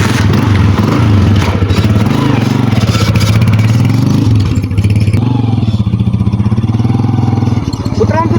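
A motorcycle rides along with a loud, continuous engine drone and clattering, while people talk over the noise.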